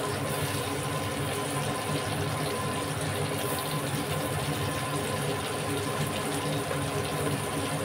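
Papaya pieces dropped into hot oil give a continuous broad hiss and bubbling wash, fairly even in level and heard alone with no talk.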